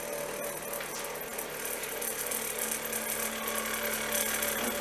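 Quick skim grinding cut on a machinist's jack screw part in a shop, a steady continuous grinding hiss with a mechanical whir underneath, fairly even in level for the whole stretch.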